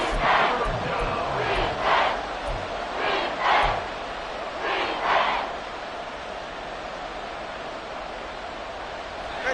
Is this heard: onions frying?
no